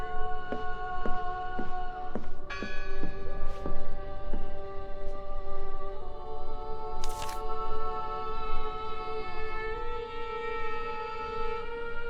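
A church bell rings in the video game Draugen: rapid, evenly spaced metallic strikes whose long ringing overtones hang and overlap, then give way to a sustained, slowly fading hum.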